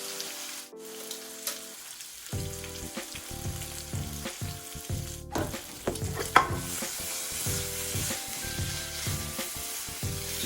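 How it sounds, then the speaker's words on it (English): Fries and bacon crisp together in a hot pan, crackling and sizzling steadily with sharp popping bursts, set against quiet background music. "These fries are coming along absolutely amazing, and this bacon is getting nice and crispy."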